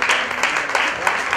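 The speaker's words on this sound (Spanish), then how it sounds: "Aplauso merecido" Wedding guests applaud in a steady patter of claps that fills the room, with a voice faintly mixed in.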